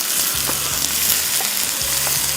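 Large pieces of chicken fry in a hot pan with a loud, steady sizzle, broken by a few soft scrapes and shifts of the pieces.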